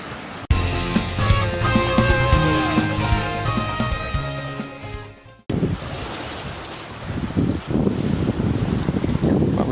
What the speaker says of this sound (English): It's a nice blustery day and a good day for a sail.